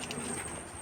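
A faint, brief call of a bird chick, soft cooing-like notes against a quiet background, in the Sundarbans mangrove forest.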